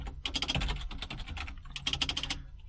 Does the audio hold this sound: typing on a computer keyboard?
yes